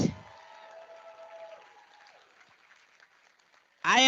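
Soft, thin applause from the audience at a disability film awards show, trailing off and fading low over several seconds before a louder burst of sound cuts in at the very end.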